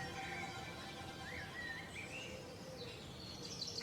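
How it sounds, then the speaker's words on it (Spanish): Soft, distant birds chirping and twittering over a steady wash of outdoor ambience, fairly quiet throughout. "el ruido ambiente de los pájaros"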